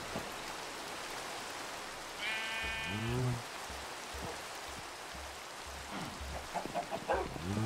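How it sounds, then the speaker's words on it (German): Rain falling in Minecraft, a steady soft hiss running the whole way, with a few nearby sheep bleats breaking through midway and again near the end. "weil mich das mit dem Regen gerade nervt"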